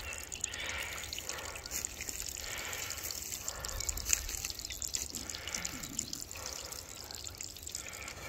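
Cold spring water trickling out of the ground in a snowmelt forest setting makes a soft, continuous burbling and dripping, moderately close and fairly quiet, with no talking.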